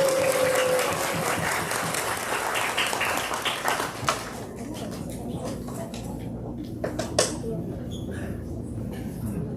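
A crowd applauds at an outdoor peace gathering marking 69 years since the armistice, welcoming a singer. Dense, steady clapping fills the first few seconds, then thins into scattered individual claps.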